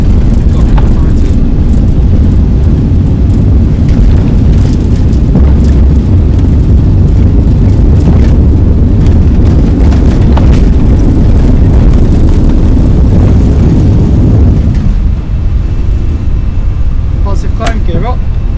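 Airbus A320 engines on the takeoff roll in the Fenix flight simulator, a loud steady broadband roar under a voice calling out speeds, dropping away sharply near the end.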